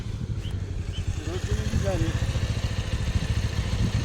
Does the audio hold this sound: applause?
no